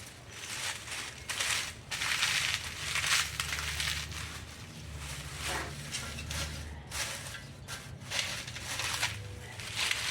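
Very dry palm frond stick cracking and crunching in hand, irregular crisp crackles and splintering bursts at close range, with no talking.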